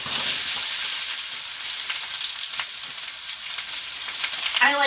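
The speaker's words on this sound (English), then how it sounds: "So we're wanting a couple of onions on to fry" Onions sizzle and crackle steadily in a hot pan for sausage stovies, a close, continuous frying hiss with small pops and a brief clatter near the end, no talk.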